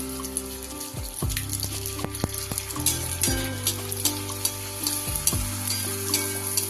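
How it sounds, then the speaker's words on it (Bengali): Phuchka puris fry in hot oil at home, a loud, steady crackling sizzle with repeated stirring and scraping sounds, heard alone and close up. "দেখুন কিভাবে ভাজছি"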